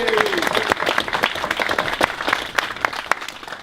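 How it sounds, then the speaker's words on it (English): Steady, dense applause from a Q&A audience, many hands clapping continuously at close range for a few seconds. "Round of applause for those guys, I think."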